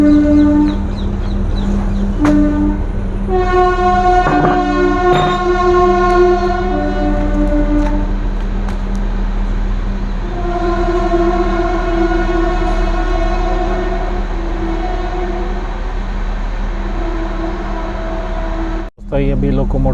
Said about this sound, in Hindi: तो ये अभी लोकोमोटिव ट्रेन के साथ अटैच होने के लिए, ट्रैक चेंज करने के बाद अभी अटैच हो गए यहाँ पे।